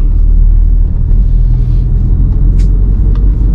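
Steady car engine rumble from inside a moving car as it is shifted up into fourth gear during driving practice, a constant low drone with faint clicks and no talking.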